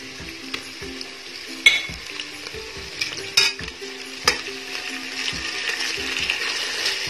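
Onions with green chilies and ginger garlic paste frying in a pan for veg biryani: a steady moderate sizzle with intermittent spatula scrapes and a few sharp clinks against the pan.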